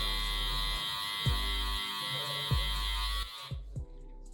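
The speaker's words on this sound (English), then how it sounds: "I will use the trimmer to do a rougher cut." An electric hair trimmer buzzes steadily and close by while cutting a taper fade, its whine dipping with short contact thumps before cutting out near the end.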